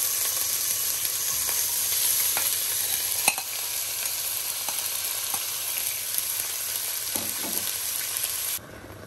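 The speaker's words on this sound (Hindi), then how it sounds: "सारा कीमा ऐड कर देंगे थोड़ा थोड़ा सा करके।" Minced meat added bit by bit to a little hot oil in a pot for a spring roll filling, sizzling loudly and steadily with occasional scraping stirs and faint clicks, no voices.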